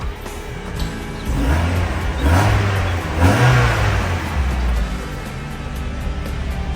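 Mazda MX5 engine with a freshly repaired exhaust, idling then revved twice in smooth rising and falling swells, close and steady with no talk.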